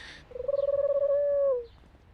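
A bird in the video game Broken Sword 4: The Angel of Death gives one smooth, drawn-out coo that swells and fades over about a second, heard alone against quiet background.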